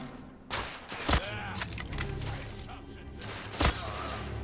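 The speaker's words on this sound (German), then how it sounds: "Okay, gut, wir haben ja noch die Pistole." Pistol gunfire in the video game The Order 1886: two or three sharp, isolated shots spaced a few seconds apart over a steady background, with some talk in the clip.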